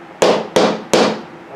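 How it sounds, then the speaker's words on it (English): Three loud, sharp bangs from a consecrated staff struck against the floor, evenly spaced, each leaving a short ringing decay in the room. "Sometimes you can bang three times to open or knock on a door to the gateway for the spirits"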